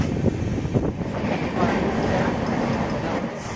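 Interior of the moving Panchvati Express passenger train between Nashik Road and Kalyan, a continuous rumbling roll with faint rhythmic wheel clatter and light background chatter.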